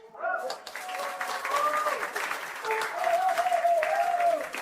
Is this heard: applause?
yes